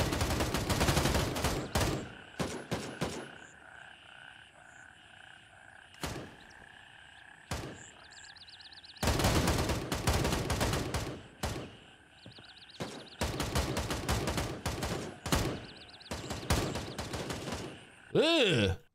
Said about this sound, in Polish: Dźwięk też jest taki, kurde, pusty jest bardzo dźwięk tego strzelania.